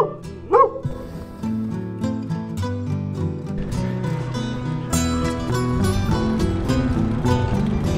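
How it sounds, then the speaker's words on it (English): Dogs barking near a campsite, a couple of close yaps at the start followed by a dense, steady tonal din that masks the barking for the rest of the clip. "there are so many dogs here around"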